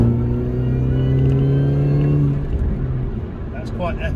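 A Mini Cooper S engine pulls in third gear on a damp road, a steady in-cabin drone and rumble rising slightly before easing off, with someone talking over it.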